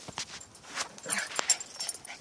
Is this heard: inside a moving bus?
no